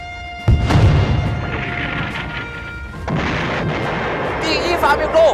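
Warship main guns firing in a war film about the Beiyang fleet's last battle, with a sudden heavy boom followed by rumbling, then a second deep blast and lingering crashing roar, loud and close.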